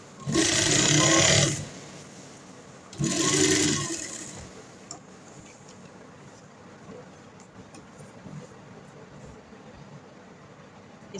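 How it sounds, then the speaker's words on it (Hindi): A sewing machine stitches a kurta seam in two short loud bursts of rapid whirring, each about a second and a half, followed by a quieter stretch of faint handling noise. "दूसरी तरफ भी इसी तरह हमने इसकी सिलाई लगानी है।"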